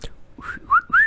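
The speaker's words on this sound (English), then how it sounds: "Can you whistle on demand?" A person whistles three short rising notes, the last two louder and clearer, heard up close with no talking.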